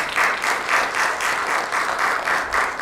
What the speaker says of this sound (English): Inspector Jiu Lee, please give him a round of applause